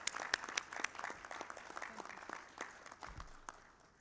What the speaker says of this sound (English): ask you all to join me in applauding her